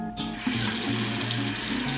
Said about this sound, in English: Okay, we are instructed to turn on the water now.